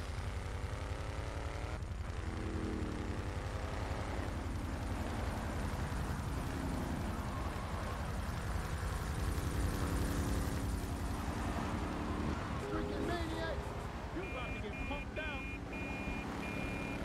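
In GTA 3 Remastered, a helicopter's steady rotor and engine drone runs throughout, mixed with game sound effects and beeping, while someone talks over it.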